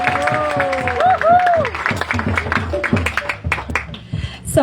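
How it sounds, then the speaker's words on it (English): Audience applause at a Krishna Janmashtami tent event, a scattered patter of hands clapping through the whole stretch, mixed with crowd murmur and a voice talking over it. "So let's give them another round of applause."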